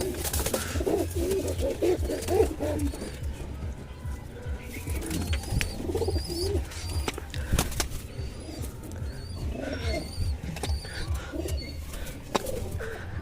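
Pigeons coo on a rooftop just after being let out of their loft, a steady run of low, throaty coos close by, broken by wing flaps, sharp knocks and scattered chirps.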